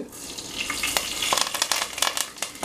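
Steady crackling sizzle of small seeds popping in hot oil, with sharp bursts scattered throughout, close and fairly loud.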